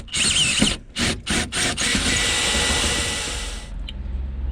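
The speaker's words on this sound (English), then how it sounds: "drill through there and come straight the way through the block" A power drill bores through a block to take a 10mm bolt while a van's seats are swapped, a loud close whine broken by several short stops at the start, then one long steady run that cuts off abruptly.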